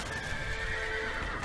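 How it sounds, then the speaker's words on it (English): Horses whinny and neigh loudly in a farmhouse scene from the video game A Way Out, with hoof clip-clop underneath, a sustained, close, noisy burst with no talking. "Oh, hell, the horses are escaping, honey."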